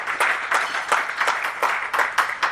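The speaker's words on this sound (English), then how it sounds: "yeah, you deserve the clap" Applause at a parliament luncheon, a short burst of steady, moderately loud clapping from a gathered crowd.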